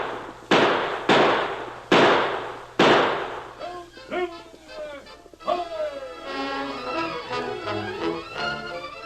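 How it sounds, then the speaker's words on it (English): Four sharp gunshot sound effects from a 1942 Lone Ranger radio drama crack out in quick succession, loud and echoing, followed by excited voices and yelping. "Don't shoot, Pa. You might hit Bob."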